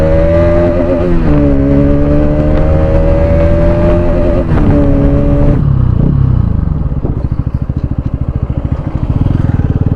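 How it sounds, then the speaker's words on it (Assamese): A Bajaj Pulsar RS200 motorcycle with its exhaust removed, revved loudly and held high for several seconds, then dropping to a rough, pulsing idle close by. "মোৰ চাউণ্ডটো চাগে অলপমান বেছ দিব এতিয়া মানে এক্সজষ্টটো খুলি থৈ দিছোঁ মোৰ"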